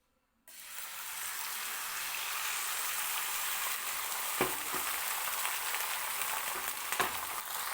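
Beaten egg poured over bread in a hot pan sets off a sudden loud sizzle that holds as a steady close hiss, with a couple of brief clinks and no talking.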